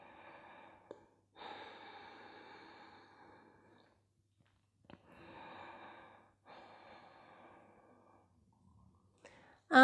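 Slow Ujjayi breaths during a vinyasa yoga session, several long, hoarse, ocean-like inhales and exhales close to the microphone, separated by brief quiet pauses.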